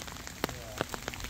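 Rain falls into a pond, giving a steady hiss with individual drops plinking distinctly on the water surface at irregular intervals, close and fairly quiet.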